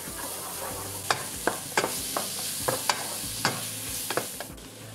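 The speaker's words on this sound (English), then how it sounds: "You want to cook these for about 5 minutes until everything's nice and soft." Spices and softening vegetables fry in a pan for chili con carne, a low sizzle under a series of irregular scraping clacks as a utensil stirs against the pan, close-up with no voices.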